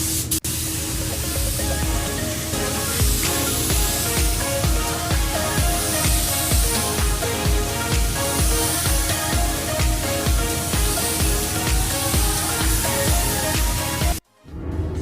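A spray gun applies a metallic paint coat to a car, a continuous loud hiss close by that holds steady for about fourteen seconds, then cuts off abruptly.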